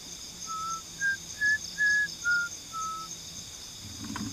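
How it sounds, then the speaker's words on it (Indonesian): People whistle a short tune of about six clear, sustained notes, rising then falling, out in a forest at night while camping, with a quiet hiss behind. "Kita bersiul teman-teman"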